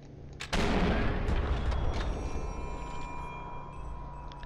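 A single loud sniper rifle shot in the game Sniper 4 at a viaduct, with a sharp onset followed by a long rolling echo that slowly fades.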